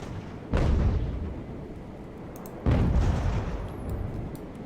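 Two heavy cannon broadsides from sailing warships in a naval battle in Ultimate Admiral: Age of Sail, each a loud booming blast with a long rumbling tail, about two seconds apart.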